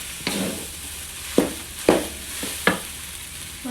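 Rice being stirred and fried in a pan for Indonesian nasi goreng: a steady low sizzle with four or five scraping stirs at irregular intervals, close and moderately loud, with no talking.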